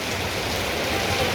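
Steady rain falls outdoors on Tillandsia air plants, a dense, even hiss of many drops continuing unbroken throughout with no voices.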